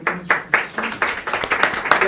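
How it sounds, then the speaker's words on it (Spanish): A small audience at a talk gives sparse, uneven claps to welcome a speaker, with distinct individual hand claps close by and loosely rhythmic rather than a dense roar. "vamos a recibir a nuestro compañero con un aplauso"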